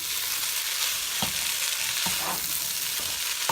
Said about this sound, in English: I just let that fry and I stir occasionally